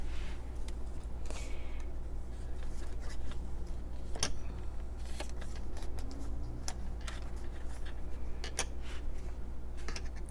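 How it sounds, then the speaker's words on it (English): Small clicks from a clip on a travelers notebook during journaling, scattered sharp ticks over a steady low hum, quiet and close, with no talking. "I feel like it's making a lot of clicking noises"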